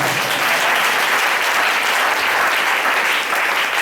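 A church congregation claps together during an evening worship service, producing loud, dense applause that continues steadily from start to finish with no talking.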